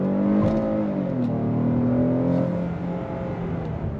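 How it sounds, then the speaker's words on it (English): A 2026 Hyundai Palisade SEL midsize SUV with an 8-speed automatic accelerating under throttle, a steady engine drone rising in pitch from inside the cabin, continuous and fairly loud. "But we're gonna go on throttle here in a second to see how this goes."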